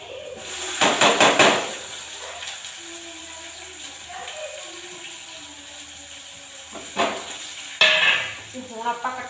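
Cumin, garlic and onion frying in a pan, with a steady soft sizzle underneath, bursts of stirring and scraping against the pan near the start and again around the middle and end, and faint clinks of utensils.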